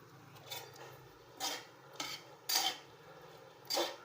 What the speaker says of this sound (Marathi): चांगलं असं मिक्स करून घ्यायचं त्याचा असा गोळा होत नाही तोपर्यंत हलवायचा